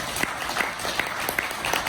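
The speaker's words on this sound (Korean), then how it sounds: "만약에 동의하시면 지금 박수 치세요." Applause from the audience at a Korean civic symposium, scattered hand claps from a modest crowd over a steady room murmur, brief and moderately loud.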